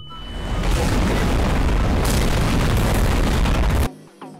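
A loud, sustained bomb explosion roar in Garry's Mod with a broadband rumble lasting several seconds, then cutting off abruptly.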